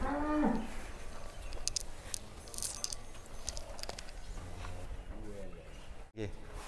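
Cattle moo in a livestock pen on an Indonesian farm, with a low moo near the start under people talking and handling noises.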